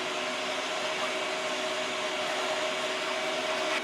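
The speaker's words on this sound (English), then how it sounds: "Man the vacuum cleaner." A vacuum cleaner runs with a steady whooshing hum, drawing air through a port on a Cadillac 429 cylinder head during a valve job, loud, close and continuous throughout.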